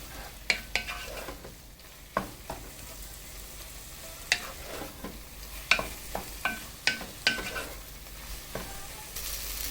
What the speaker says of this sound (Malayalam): പൊടികളൊക്കെ പച്ചമണം മാറുന്നത് വരെ നമുക്കൊന്ന് വഴറ്റി കൊടുക്കാം